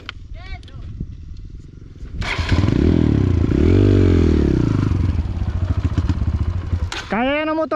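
A Kawasaki KLX enduro motorcycle engine revs and labors loudly up close on a trail at Tampakan, rising and falling as it rides over rough, rocky ground, with people talking briefly.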